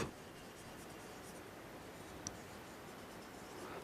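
Pen or pencil scratching out notes during a chemistry lecture on organic functional groups, a soft continuous scribble close to the microphone with a faint tick partway through.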